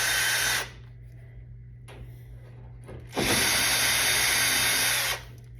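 A power drill backs screws out of the rear panel of a Harvest Right freeze dryer, whirring loudly in two bursts, a short one and then a longer sustained run, with a quiet pause between.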